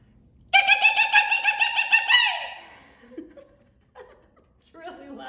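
A woman imitates a pileated woodpecker with her voice in a loud, rapid run of high, ringing call notes lasting about two seconds. Soft background chatter and laughter follow.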